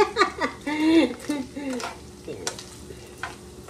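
Ground pork with ginger frying in oil is stirred in a pan, giving crackling sizzle and scraping strokes at close range, while a person talks over much of it.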